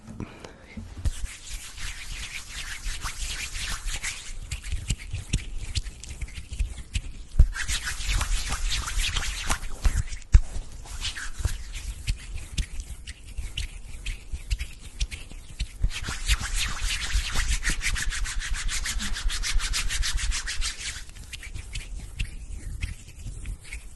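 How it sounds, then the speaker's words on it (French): Close, continuous soft rubbing and smearing of cream between hands for ASMR, a steady textured hiss with brief louder swells and no speech, intimate and quiet throughout. "C'est sympa le bruit au début quand je le frotte."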